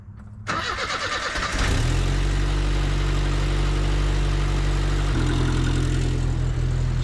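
A 1979 Chevy LUV pickup cranks briefly and fires, its engine catching and settling into a loud, steady, rumbling idle close by, with a slight shift in tone partway through.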